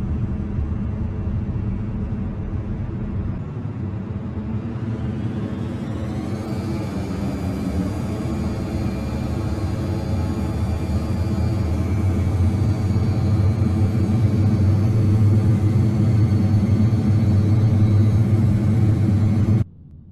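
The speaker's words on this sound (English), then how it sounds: "Runway 27 right, clear for takeoff." A CRJ-200 regional jet takes off in the flight simulator FSX, with a steady, loud jet engine roar that swells as thrust builds and holds strong throughout, then cuts off abruptly at the end.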